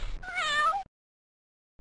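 A single cat meow, a clear tonal cry lasting under a second and heard close, followed by silence.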